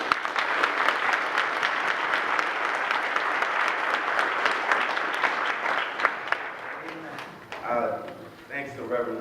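A graduation ceremony audience gives the graduates a long, dense round of applause, sustained for several seconds before thinning out as a voice begins speaking near the end.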